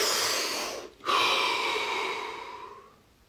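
A deep breath drawn in slowly, then after a short catch a long breathy exhale that fades away, close and alone.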